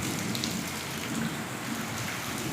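Steady rain falls in a village, an even, continuous patter with no voices or other sounds over it.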